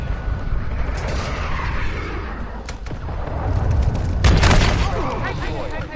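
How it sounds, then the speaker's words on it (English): Cruise missile strike from Modern Warfare 2 explodes as a loud, rumbling boom with heavy crackling blasts swelling toward the end, mixed with battlefield noise and voice chatter. "Friendly cruise missile inbound."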